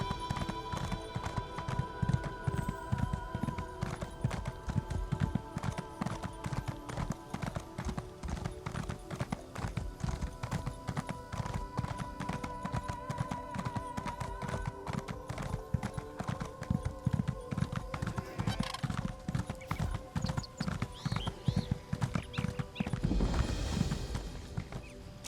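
Horse hooves in the video game Elder Scrolls Online, a steady rapid clip-clop of a ridden horse running over ground for the whole stretch, with a brief whoosh near the end.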